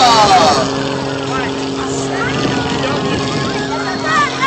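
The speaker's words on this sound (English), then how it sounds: "Here goes Kirby Chambliss right on up into the Cobra" Aerobatic airplane climbing vertically on takeoff at an air show, its loud engine drone and propeller roar steady and close throughout, with an announcer talking over it.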